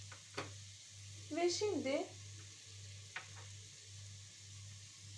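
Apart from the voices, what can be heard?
stirring prickly squash with onion and tomato paste in a pan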